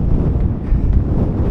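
Gale force wind roaring across an exposed mountainside on Helvellyn, a continuous loud low buffeting rumble battering the microphone with no break, gusts swelling and easing slightly.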